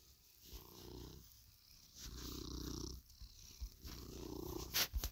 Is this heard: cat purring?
yes